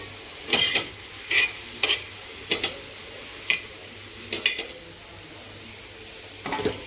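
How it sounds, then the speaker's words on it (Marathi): Ridge gourd fries in oil under a soft, continuous sizzle, broken by bursts of spatula scraping and stirring against the pan. "तेल टाकून भाजायचं असंच लाल होईपर्यंत"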